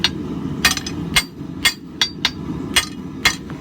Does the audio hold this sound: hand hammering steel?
yes